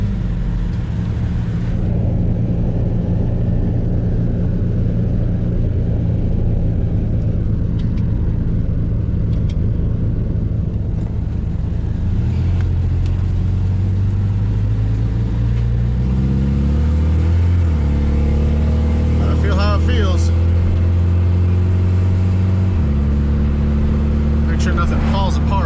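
A 1989 Toyota pickup on air-bag suspension drives along, its mid-pitched engine droning steadily and shifting pitch as it accelerates and changes gear, with road rumble underneath throughout.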